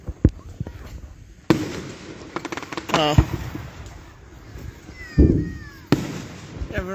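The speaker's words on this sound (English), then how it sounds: "right now you're enjoying the 4th of July fireworks here in Casey, Illinois" Fourth of July fireworks display in Casey, Illinois, with loud booming bursts and crackling sprays spread through the stretch, one deep thud near the end, while people speak briefly nearby.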